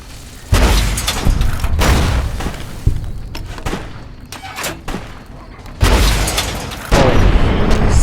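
Heavy rocket explosions in the game Fallout New Vegas: several loud, sudden booms with rumbling tails, spaced irregularly with quieter gaps of debris and gunfire between them, close and powerful.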